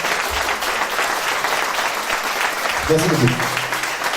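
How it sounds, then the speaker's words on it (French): An audience at a live music show breaks into applause, a dense close clatter of clapping with someone speaking briefly over it. "Et vos applaudissements"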